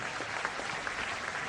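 Steady applause from a small group at a celebration of a hundredth episode, a dense, even patter of hand claps that carries on without pause and with no voices over it.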